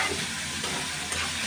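Vegetables for noodles fry in a pan over rising heat, a steady close sizzle with soft stirring underneath, continuous and alone.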